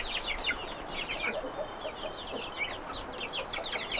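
Orloff chickens and a pair of turkey pullets cluck and chirp in a barnyard nursery pen, a steady run of soft overlapping calls close by against a low background hum.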